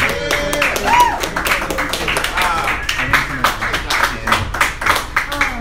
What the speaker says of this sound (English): another round of applause for Mr. Daniel Archilla